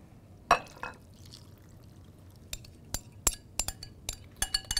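Salt and honey dressing poured from a glass container over sliced cucumbers, a short liquid pour followed by several sharp clinks of glass and utensils, close and fairly quiet.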